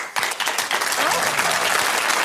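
Studio audience on a 1960s television panel show breaking into applause, a sudden, full burst of clapping that holds steady, with a voice talking over it.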